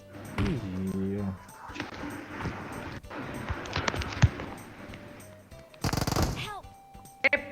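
Shotgun blasts and other gunfire in a video game, several sharp reports scattered across the clip with a loud sustained burst of shots near the end, heard under excited talk.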